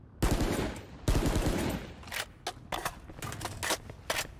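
A video game gun fires two heavy, close shots followed by a quicker string of sharper, lighter shots at an uneven rhythm, heard alone without talk.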